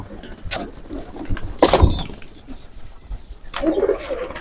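Pigeons kept in a backyard coop coo in soft, low, intermittent calls close by, with occasional wing flutters and rustling in the background.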